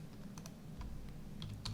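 Light, quick keystrokes tap on a computer keyboard in a short, quiet burst with a few sharper clicks.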